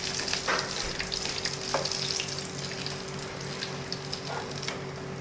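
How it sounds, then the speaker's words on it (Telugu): Happima fried chicken pieces deep-frying in hot oil, a dense continuous bubbling sizzle with a steady low hum beneath and a few sharper crackles, close and even in loudness the whole time. "ఇప్పుడు ఇంకో ప్యాకెట్ ఫ్రైలో వేసుకుంటున్నాను."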